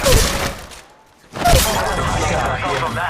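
Gunfire in the mobile shooter Apex Legends Mobile: dense bursts of rapid weapon shots fill most of the stretch, broken by a brief lull, loud and close with game voice lines mixed in.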